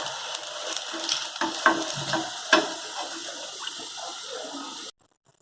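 Semolina cheese sticks fry in hot oil with a steady, dense sizzle and occasional bubbling pops, close up, then cut off abruptly into silence.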